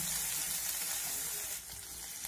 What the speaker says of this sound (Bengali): এখন আমি সব কিছু মেরে করে ভেজে নেব আদা রসুন অনেক কাঁচা গন্ধ চলে যাওয়া পর্যন্ত